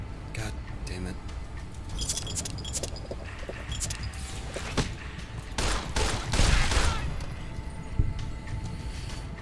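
Gunfire in Fallout New Vegas: a run of quick, clattering shots building to a denser burst, under ongoing game sounds and a person talking.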